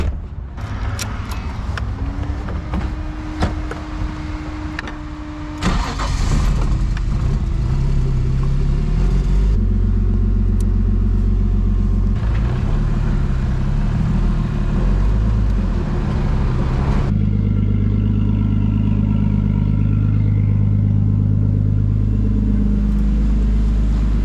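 A Nissan 240SX engine runs as the car is driven around back, rising and falling through several revs with gear changes, loud and close, ending in a steady lower idle.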